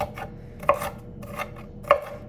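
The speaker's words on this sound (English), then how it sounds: "You got to chop your veg the way you like to eat it, so you make sure you eat it." A knife chops vegetables on a board during weekly meal prep for salads and a chickpea mix, giving a steady series of close, crisp cuts with a few louder thuds.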